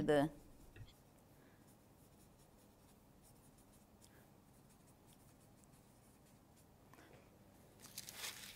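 A pen writing a label on fabric pattern paper: faint, scratchy strokes in a few short bursts, with a louder rustle at the start and another near the end.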